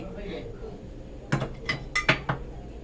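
A metal cooking pot is handled and swapped while making a winter melon and pork bone soup, giving several sharp clanks and clinks in quick succession after a quiet start, with faint background sounds in a home kitchen.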